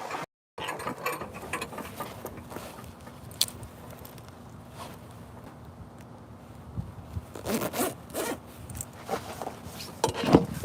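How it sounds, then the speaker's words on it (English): A jacket zipper is pulled up close by, giving short rasping zips and rustling fabric over a quiet indoor background, with a few sharper scrapes near the end. "Let me zip up my jacket."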